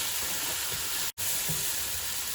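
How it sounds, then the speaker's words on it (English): Onions sizzle steadily in hot vegetable and olive oil while being stirred, a close, even frying hiss broken by one brief dropout midway. "Now she's adding the vegetable oil and the olive oil. She's going to stir some more."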